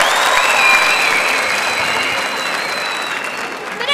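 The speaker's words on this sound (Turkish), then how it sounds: "Beni yarı finalde görmek istenler bir alkışlasın" A talent show studio audience breaks into loud, sustained applause with crowd cheering, full and even before slowly easing toward the end.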